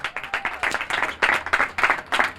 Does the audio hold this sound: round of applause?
yes